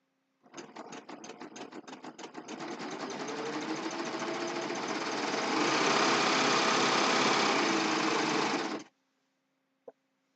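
A sewing machine stitches fabric, running steadily for several seconds, starting with rapid stitching pulses and then speeding into a continuous whir before stopping abruptly, followed by one small click.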